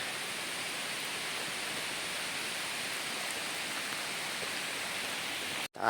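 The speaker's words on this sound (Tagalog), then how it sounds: "Kasi nga po, walang tigil talaga ang ulanan." Heavy rain pours in a steady, dense hiss that holds constant throughout, loud and close, with no voices, falling by a hut.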